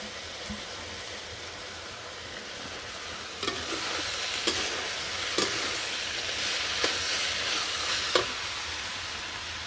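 Water lily stems frying in a kadai give a steady, close sizzle and hiss, broken by a few sharp clinks of a utensil against the pan at irregular intervals.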